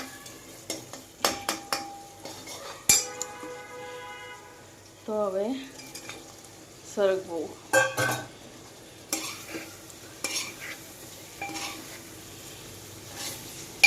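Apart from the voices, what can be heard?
stirring drumsticks in sizzling tomato tempering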